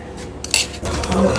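Sugar being stirred into rice in a pot for sweet milk pulao, a brief burst of spoon scraping and clinking against the metal pot, close and fairly loud over a steady background hiss.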